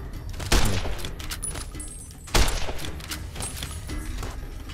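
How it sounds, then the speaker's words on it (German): Shootout in the video game Fallout New Vegas, with two loud gunshot blasts a couple of seconds apart over a busy background of clatter and game noise, no voices. "Das ist jetzt ein Shootout"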